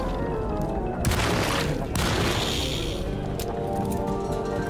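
Shotgun blasts in the horror game Alone In The Dark: two loud, booming shots about a second apart, each with a sharp crack and decaying tail over a dark ambient background.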